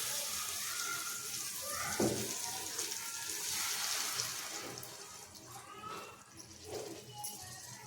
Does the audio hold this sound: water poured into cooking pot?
yes